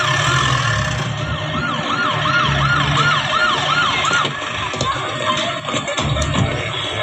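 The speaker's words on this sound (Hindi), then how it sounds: "सर ट्रैफिक में एम्बुलेंस फंसी है।" An ambulance stuck in heavy traffic wails with a rapid, repeating up-and-down siren over dense street noise and rumbling engines, loud and close at first, then thinning into the ongoing traffic din.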